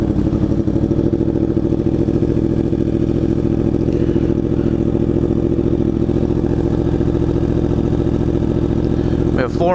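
A 2023 Yamaha R1 sport bike idles and rumbles steadily through its first ride, a constant close engine drone with little change in pitch.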